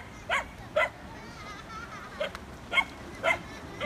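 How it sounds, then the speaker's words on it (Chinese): A dog herding pigs on Lanyu island gives a series of short, sharp barks and yips at uneven intervals, moderately near over quiet outdoor background. "这只狗叫做点点，它刚刚已经赶了很多猪了"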